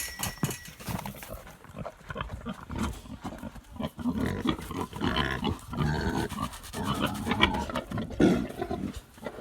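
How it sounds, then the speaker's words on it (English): Two farm pigs, a boar and a sow, grunting and snuffling up close in irregular bursts of rough, low snorts, fairly quiet but continuous over several seconds. "Right now we only have two pigs, our boar and our sow"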